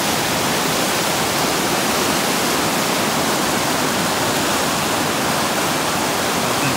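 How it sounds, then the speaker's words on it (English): Waterfall plunging over a shelf into a steep bowl in an old-growth ravine on Plympton Creek, a constant loud broadband roar heard near and alone without talk. "So standing at the top of this waterfall."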